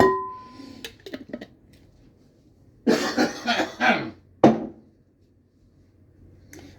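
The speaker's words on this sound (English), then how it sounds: "cough in the food." A few sharp coughs in a cluster, then one more single cough shortly after, close by with quiet pauses between.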